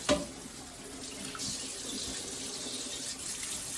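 Water runs steadily from a kitchen tap into a sink as oranges are rinsed, a continuous broadband rush lasting throughout with a brief louder splash at the start.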